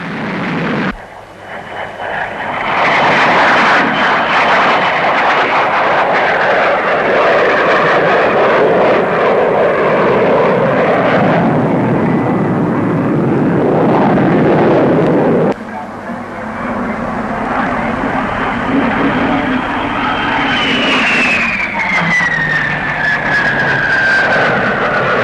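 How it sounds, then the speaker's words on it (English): A de Havilland DH-112 Venom jet fighter roars past at a 1950s Farnborough air show, a loud sustained engine blast that swells and then drops in pitch as it passes and recedes. "Here's the DH-112, the Venom, a development of the famous Vampire."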